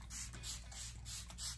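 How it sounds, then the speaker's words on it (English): Setting spray misted onto a face in several short bursts, each a soft airy hiss with brief pauses between, close and clear with no talking. "I'm gonna spray a little bit of the Love Ritual again."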